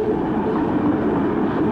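Sydney underground electric train on the inner-city loop, a steady close rumble of wheels and motors running continuously with no breaks or voices.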